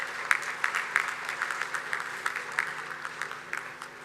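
Steady applause from a school event audience, many hands clapping in a dense, continuous patter that fades slightly toward the end.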